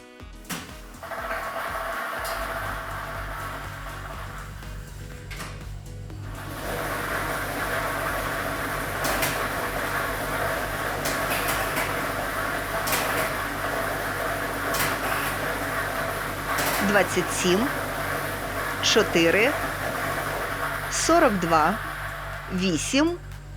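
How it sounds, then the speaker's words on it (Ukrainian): Lottery ball drawing machine running during a Ukrainian state lottery draw, a steady low mechanical hum starting after a short pause with faint rattling on top, and a voice briefly heard near the end. "І ми вмикаємо лототрон."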